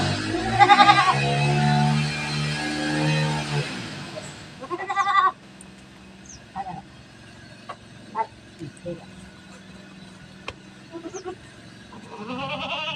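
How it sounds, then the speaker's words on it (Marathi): A goat kid bleats loudly and repeatedly up close at first, following its tethered mother, followed by quieter scattered calls and short sounds at a distance. "बकरीचं पिल्लू आईच्या मागे कसं लागलेलं आहे"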